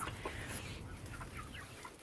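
Chickens clucking and fussing close by, a busy run of short bird calls over a low, steady background rumble.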